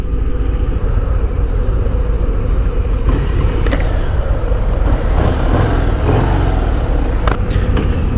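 A 2024 Harley-Davidson Breakout 117 motorcycle pulls away under a loud, steady low engine rumble with rushing wind noise, close to the rider.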